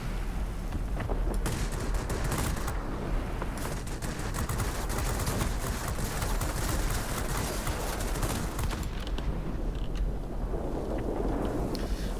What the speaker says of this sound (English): Try to let our guns cool off a little bit